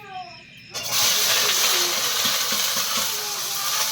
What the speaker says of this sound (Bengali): কড়াইতে এবার পেঁয়াজগুলো দিয়ে দিচ্ছি।